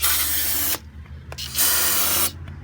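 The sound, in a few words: brake cleaner sprayed onto an engine cylinder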